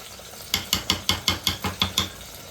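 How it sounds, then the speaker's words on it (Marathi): Puran lentil filling being stirred in a pan, nine evenly spaced sharp scraping knocks of a spoon against the pan, close and clear with no talk. "कंटिन्यू हलवत राहायचं"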